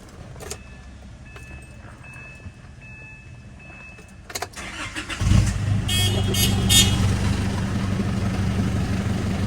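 A 2012 Isuzu D-Max Hi-Lander Cab4 2.5Z pickup cranks and its engine catches midway, following a few clicks and key sounds, then settles into a steady close idle.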